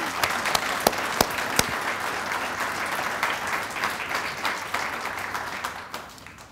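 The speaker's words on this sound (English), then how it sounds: "Let's give these two a warm round of applause" A room full of people at an induction ceremony claps steadily for several seconds, a few sharp close claps standing out before the applause gradually thins.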